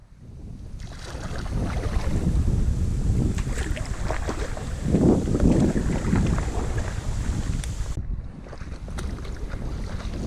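Wind buffets a moving boat heading out from an island's shelter into more open water on a lake or sea, a steady loud rushing roar with gusty swells and microphone rumble, no voices.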